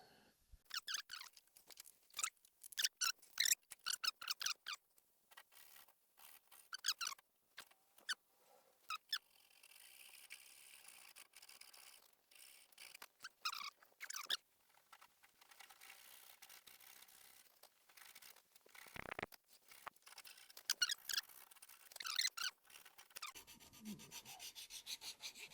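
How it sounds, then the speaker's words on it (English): Close wood chiseling on a wooden frame piece: repeated sharp scraping and squeaking strokes come in irregular bursts, loud and near, with quieter pauses between them and a harder crunch near the end. "So now we have this piece with this line in the middle that I'm going to try to chisel out."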